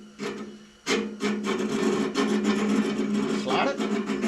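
Metal calipers slide along a metal edge to scribe a line on a 1972 Dodge Demon, making close, raspy scraping strokes that start after a brief pause and continue steadily.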